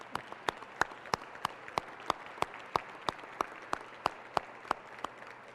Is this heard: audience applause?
yes